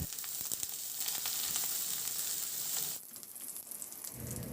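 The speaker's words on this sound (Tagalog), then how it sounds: "Magpainit muna ako ng mantika at igisa ko na rin yung bawang at luya." Garlic and ginger sautéing in hot cooking oil, a steady close sizzle with crackling pops that eases briefly before rising again.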